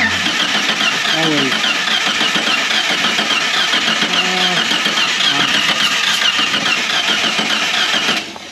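A car engine with low compression cranks over steadily for about eight seconds, a loud, even starter churn with a few brief tonal whirs, and then it stops abruptly.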